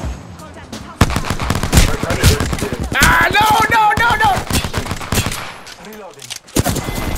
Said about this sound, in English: somebody sniping me out, boy